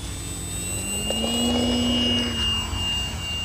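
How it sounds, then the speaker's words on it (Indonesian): A sawangan whistle fitted to an RC Ugly Stick model airplane with a 120 cm wingspan sings in flight as a steady droning tone that swells and rises slightly over a continuous engine whine. "Sendarannya atau sawangannya langsung bunyi."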